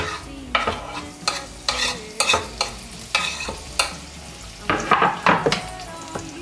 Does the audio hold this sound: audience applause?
no